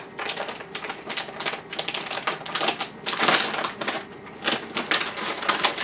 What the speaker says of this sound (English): M&M has one of these resealable bags.